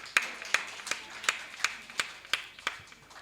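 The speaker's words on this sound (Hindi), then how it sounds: "बजाओ भाई ताली एक बार" Clapping at a poetry recital: about nine slow, evenly spaced handclaps, faint and fairly close, with no crowd roar behind them.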